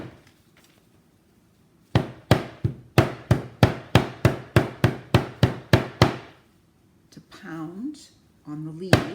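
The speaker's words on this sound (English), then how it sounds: "pound on the leaves, and that's the process that transfers the ink onto the paper" A hammer pounds leaves onto paper laid on a table, about a dozen sharp, evenly spaced loud strikes in a row, followed by a short pause and some speech.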